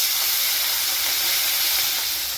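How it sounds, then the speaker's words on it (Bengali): Marinated prawns fry in hot oil for a Bengali taro-stem curry, a steady bright sizzle and hiss filling the pan without a break, close and fairly loud. "এবার আমি মাছগুলোকে ভেজে নেব"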